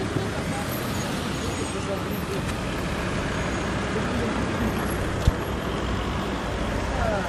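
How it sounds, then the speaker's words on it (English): Trucks and other traffic idle and roll at the border crossing between Romania and Hungary, a dense, steady roadway rumble with one sharp thump near the end. "So we're between the borders now with all these trucks and stuff."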